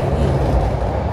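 A Hong Kong subway train runs with a steady, loud, close rumble and a faint rattle of carriages throughout, with no voices.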